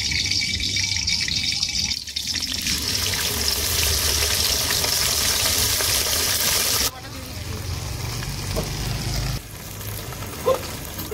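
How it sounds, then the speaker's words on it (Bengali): Spiced water poured into a hot pan of oil and ginger paste, a steady gushing splash with a sudden change in tone partway through as the liquid hits, continuous and fairly close. "মশলার জলটা দিয়ে দিচ্ছি।"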